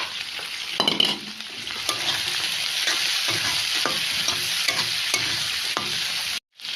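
Dried Bombay duck (loitta shutki) and garlic fry in hot oil with chili paste, giving a loud, steady, close sizzle broken by repeated scraping stirs, with a brief drop in sound near the end.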